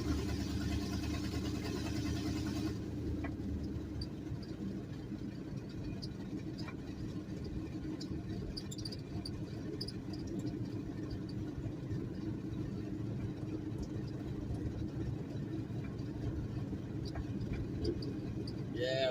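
A carbureted car engine runs in fourth gear under light throttle, a steady low rumbling drone heard from inside, fairly even and moderately loud with some faint rattles.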